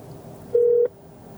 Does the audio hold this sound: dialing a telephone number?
yes